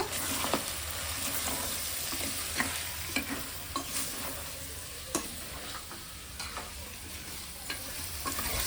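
Spoon stirring cumin and black pepper into a sizzling pan of Telangana-style mutton curry, a continuous fry hiss punctuated by irregular scraping knocks against the pot, close and alone.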